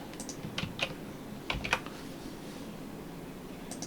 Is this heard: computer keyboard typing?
yes